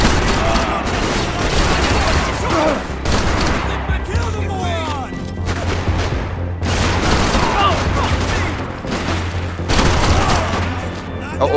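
Gunfire from a Max Payne 3 shootout rattles in repeated bursts and single shots throughout, loud and close, with game voices and a player talking over the shooting.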